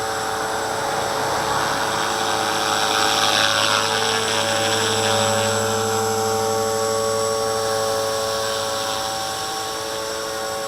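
A V450D01 RC helicopter hovers on its maiden flight, giving a loud, steady high-pitched rotor and motor whine that stays close and continuous throughout, with no one speaking.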